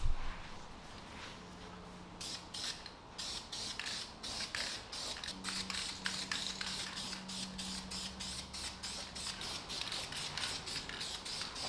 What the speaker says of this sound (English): I'm going to spray the whole piece black